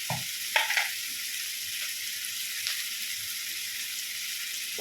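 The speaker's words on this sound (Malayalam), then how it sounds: "ഉള്ളി നല്ലതുപോലെ വഴന്ന് വരും ഈ ബ്രൗൺ കളർ ആക്കാം" Onions sauté in a pan for egg theeyal, giving a quiet, steady sizzle with a few soft stirring scrapes, close and without talk.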